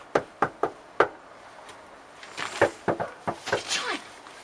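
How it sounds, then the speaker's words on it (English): Knuckles rap on a house door in two bursts: three or four sharp knocks, a pause, then a longer uneven series of raps, close and fairly loud with faint voices in the background. "Of course you should knock again!"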